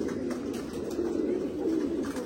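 Many pigeons in a loft coo together in a continuous low warbling drone, close by, with no speech over it.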